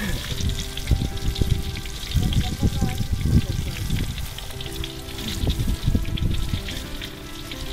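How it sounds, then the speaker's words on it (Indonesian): Tempeh fries in a pan outdoors in the middle of a rice field, crackling and sizzling steadily with bursts of louder spattering throughout, with no talking. "pertama kali goreng tempe di tengah-tengah sawah"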